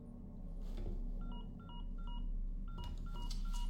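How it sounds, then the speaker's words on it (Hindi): A phone in Resident Evil 4 Remake gives a repeated electronic ringing tone, short bursts of beeping pulses in a regular pattern over a low background hum, with no voices. "फोन आ रहा है।"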